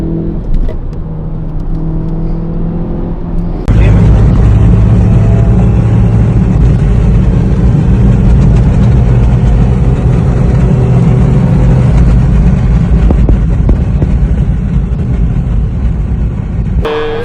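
On the Nürburgring track, a car's engine suddenly roars up from a quieter hum to a loud, sustained droning whine with heavy rumble, heard from inside the cabin for most of the clip.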